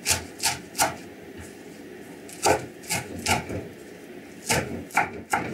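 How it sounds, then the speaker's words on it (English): A knife chops coriander finely on a cutting board, giving crisp, irregular knocks in short bursts with pauses between them, close and clear. "and the coriander, we chop them all together. Very finely chopped."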